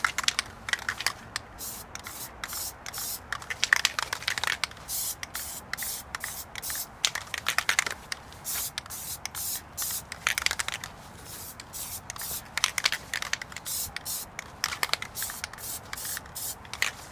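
An aerosol can of Plasti Dip sprays onto car wheel rims in a series of short, sharp hissing bursts with brief pauses between them, close and fairly quiet, with no voices.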